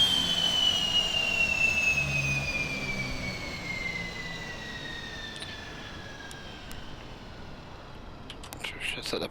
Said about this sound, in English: Shut down the engines.